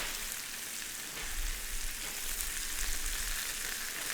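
Steaks sizzle on a grill, a close, steady crackling hiss that swells slightly partway through, heard on its own without talk.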